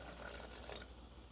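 Water poured into a pot of whole wheat pasta cooking in butternut squash and chicken broth, a faint, brief trickle and splash heard alone at low level.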